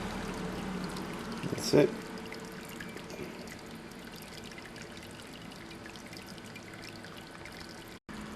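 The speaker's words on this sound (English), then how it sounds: "I will press start, and the pump comes on and the heater's on." A Braumeister 20-litre all-grain homebrew system has its pump running, and water circulates with a steady low splashing and trickling wash. A voice speaks briefly near the start over a short clunk.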